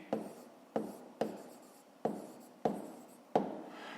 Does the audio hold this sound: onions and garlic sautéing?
no